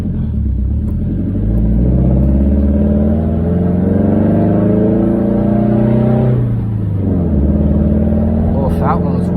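A car engine pulls hard in first gear, rising in pitch through a rev, dropping briefly, then climbing again, heard loud from inside the cabin with a voice speaking over it.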